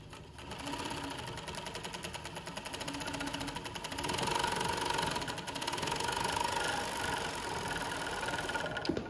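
A Juki MO-6916J industrial serger runs continuously on lighter fabric, a close, fast, steady mechanical whir with a rapid stitching buzz that swells slightly midway, no voices.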